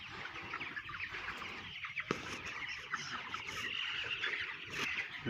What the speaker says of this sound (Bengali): টপের মধ্যে পানি খাইতেছে মুরগা